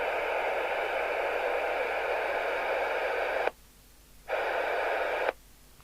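Midland 38 80-channel FM CB radio, under repair, putting out loud broadband static hiss during a squelch check, cutting off twice as the squelch closes and briefly reopening between.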